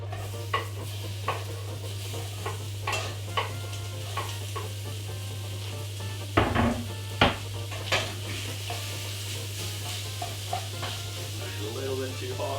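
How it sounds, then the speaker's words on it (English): Beef pieces browning in a very hot pan for fried rice, a steady broadband sizzle running throughout with scattered utensil clinks and a few louder scraping knocks near the middle. "So yeah, we'll put the beef in. But you just pretty much pick it up and just put it in the pan."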